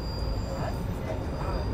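Argo Wilis passenger train rolling through the Kadungora curve in the West Java mountains, heard from on board: a steady low rumble of wheels and carriage noise with a faint high tonal whine, continuous and close.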